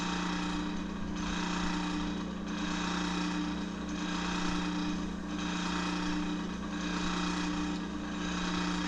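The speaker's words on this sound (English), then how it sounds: "My lathe is very noisy on the lowest speeds." A wood lathe spins at its lowest speed, running loud and rough with a steady motor drone and rhythmic pulsing hum, as if its bearings were worn, continuous and close throughout with no voices.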